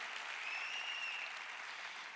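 A church congregation applauds during a Spanish-language sermon, steady dense clapping filling the whole moment without pause, with a few faint cheers or whistles riding over it.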